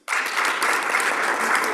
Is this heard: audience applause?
yes